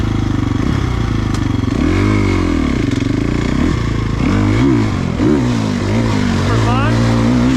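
Gas Gas 350 or Stark Varg off-road dirt bike ridden hard down a trail at race pace, engine loud and close, revving up and down through bumps and turns with rattling and scraping throughout.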